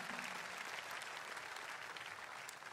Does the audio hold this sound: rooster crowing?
no